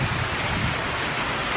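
Heavy rain pours steadily during a severe thunderstorm with a tornado warning in the United States, a dense, unbroken wash of noise with a low rumble underneath.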